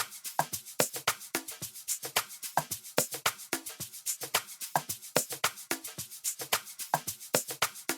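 Two guitar loops from a sample pack playing together, plucked notes repeating in a quick, steady rhythmic pattern with crisp, clear attacks, heard alone without any talk.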